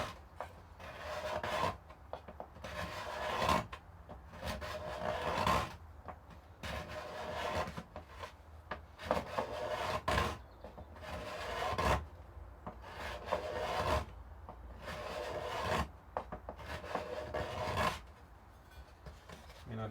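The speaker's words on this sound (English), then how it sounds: "I've just given that a few scrapes." Hand scraping along the wooden recurve on the side of a lyre mandolin body under construction, a series of rasping strokes in steady rhythm, each lasting a second or two with short pauses between, close and fairly quiet.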